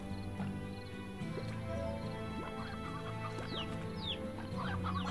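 Stony hens from the game Slime Rancher cluck and chatter in short bursts over a steady droning game soundtrack, several birds close by.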